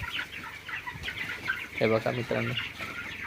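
Chickens cluck at a poultry farm, with short clucks scattered through the moment and a louder cluster near the middle, while someone talks nearby.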